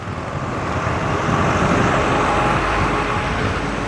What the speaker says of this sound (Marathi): हे बघा गाडी.